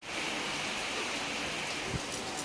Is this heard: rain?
yes